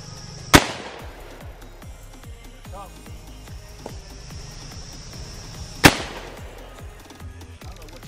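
Two sharp, loud shotgun blasts ring out about five seconds apart at an outdoor sporting clays course, each with a quick echoing tail, while a low murmur and rustling fill the gaps between shots.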